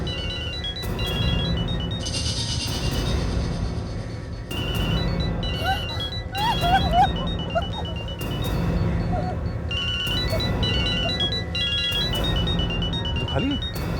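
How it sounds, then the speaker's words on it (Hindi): A mobile phone rings from inside a bag, its repeating electronic ringtone pattern running continuously beneath dramatic background music and voices in a tense crime-drama scene. "इसी बैग में से मोबाइल की आवाज आ रही है"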